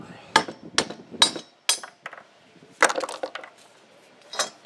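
Hammer blows strike a Tecumseh mower engine during a teardown to free the head: a series of sharp metallic knocks, four quick ones then a denser cluster, close and loud with short rattling decays.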